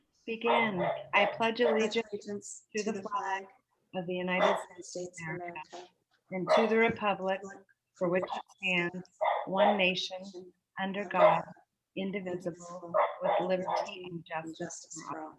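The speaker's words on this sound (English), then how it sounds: "Sorry about the dog in the background." A dog barks intermittently in the background of a virtual board meeting, largely masked by several people reciting a group pledge in unison throughout.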